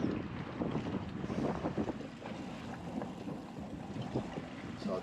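Strong wind buffets a small boat at sea, a steady roaring rush with gusty swells of noise and a faint hum of the craft moving against the current.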